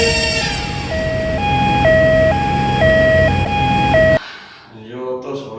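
A loud ambulance siren alternating between two pitches in a steady wail, then cutting off abruptly, followed by a brief voice.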